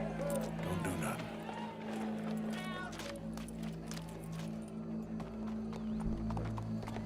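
Horse hooves clip-clopping and shuffling in Red Dead Redemption 2, with a low crowd murmur, snorts and steady background ambience; voices talk intermittently over the scene.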